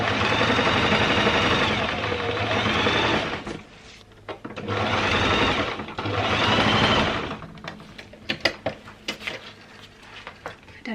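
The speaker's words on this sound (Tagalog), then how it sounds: "So, tahiin naman natin yung kabilang side." A sewing machine stitches the side of a handmade punch-needle throw pillow case, running in two long, steady whirring bursts separated by a short pause, close and loud, followed by scattered clicks and handling noises.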